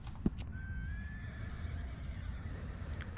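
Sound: horse whinnying in video game Red Dead Redemption 2

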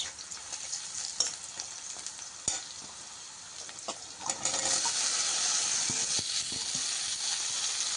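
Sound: stir-frying chopped okra in pan

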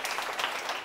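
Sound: audience applause

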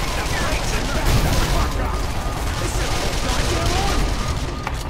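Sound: Uzi gunfire into a car, explosion, video game Call of Juarez

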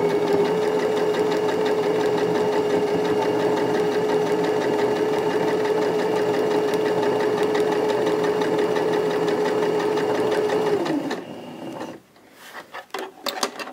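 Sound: sewing machine stitching rag quilt squares

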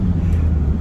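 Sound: Zill 520 motorhome driving off from traffic lights

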